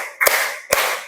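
Two crisp, close hand claps about half a second apart during a counted clapping exercise, each snapping sharply and fading with a brief roomy tail.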